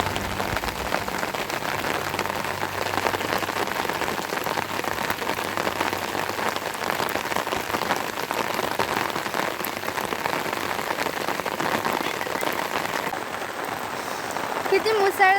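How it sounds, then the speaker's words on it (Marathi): Heavy monsoon rain pours steadily onto surfaces around a rooftop, a dense, loud, continuous hiss of drops with no break, while people talk faintly underneath. "किती मुसळधार पाऊस चालू आहे."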